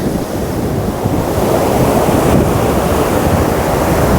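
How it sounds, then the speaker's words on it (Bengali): Roaring sea waves crash at Dublagadi beach: a dense, continuous, close rush of surf with wind buffeting the microphone, and no voices. "সমুদ্রের কি গর্জন এখানে"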